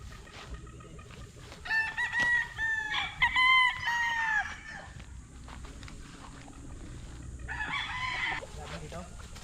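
A young rooster (stag) gives several strained crows, then clucks, close and fairly loud, with a few bursts of calling and quieter stretches between.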